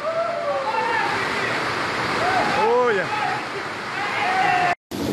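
Heavy rainwater rushes and gushes in a loud, continuous roar during a rainstorm in Rio Grande do Norte, Brazil. Someone talks over the flowing water, and the sound briefly cuts out near the end.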